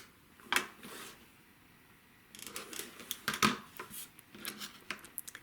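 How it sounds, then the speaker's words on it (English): Scissors snip a small fabric nub off a quilt block, giving sharp close clicks and short crisp cuts amid light handling rustle of cloth, quiet and intermittent, no voices. "Cut off this nub."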